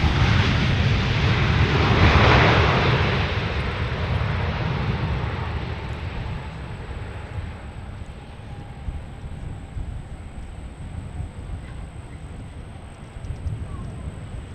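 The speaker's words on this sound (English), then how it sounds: "The KC-130J is foreign to MSP" A KC-130J military transport aircraft at MSP airport gives a loud, broad engine roar that peaks early and then slowly fades while remaining strong throughout.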